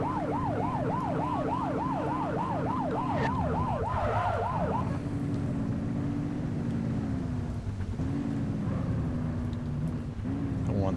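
A police siren in the video game The Precinct wails in a fast warbling yelp for several seconds, then drops out, leaving a steady engine drone with slow low swoops. The siren and engine sound loud and continuous throughout.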